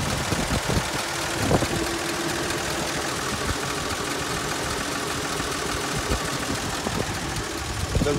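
A 1948 Ford car engine with a recently rebuilt carburetor and radiator idling nearby, a steady mid-pitched chugging rumble with slight irregular knocks throughout, no speech over it.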